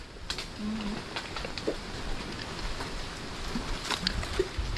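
Steady rain patters on a surface throughout, a dense continuous hiss with a few faint scattered knocks and distant sounds.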